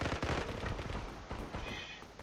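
Video game gunfire crackles in rapid bursts of sharp shots over a couple of seconds, fairly quiet overall.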